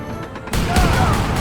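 A single heavy boom bursts in after a brief lull and rolls on as a loud, sustained crash of cannon fire in Age of Empires 3, shooting through a wall.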